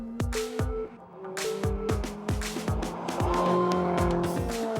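A sports car is driven fast around a track on a hot lap, its engine revving hard through repeated rising and falling pulls while the tires squeal loudly and continuously, close and alone.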